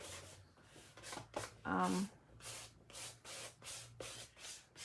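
An old iTunes card scraping gesso across a scrapbook layout, a series of short rhythmic rasping strokes, close and quiet, with a brief voice-like tone in the middle.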